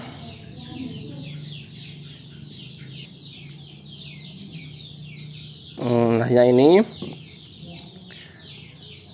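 Free-range village chickens cluck and squawk nearby while being fed rice and azolla, with one loud burst of calls partway through, while someone talks quietly in the background.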